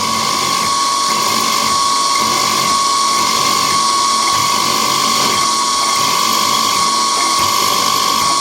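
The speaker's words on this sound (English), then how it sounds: "Just doing a little bit of peck drilling here." A drill press at 1200 RPM whines steadily as it peck drills into steel, a high grinding tone with faint rhythmic pulses as the bit is fed in and backed out, close and loud.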